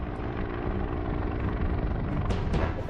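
Helicopter setting down on the ground, a steady loud rotor and engine roar that holds throughout, swelling slightly toward the end.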